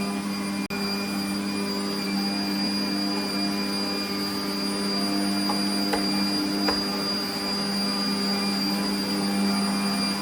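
An electric meat grinder minces smoked bacon through its smallest plate, giving a steady, unbroken motor whine and hum that holds at one level throughout with no talking.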